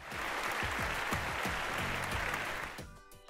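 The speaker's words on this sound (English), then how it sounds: "Can we give her a round of applause for coming back?" An audience claps for a few seconds, a steady patter of many hands that fades out at the end.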